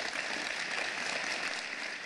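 An audience of entrepreneurs keeps up a sustained, even round of applause, a dense wash of clapping heard at moderate distance for the whole stretch, with no voices over it.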